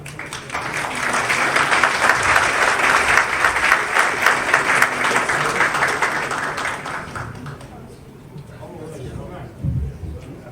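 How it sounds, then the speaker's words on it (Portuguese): Audience applause at the closing ceremony of a technology week, a dense sustained clapping from a large crowd that swells for several seconds before thinning out into scattered claps and murmurs. "com mais um aplauso para esse momento de homenagem"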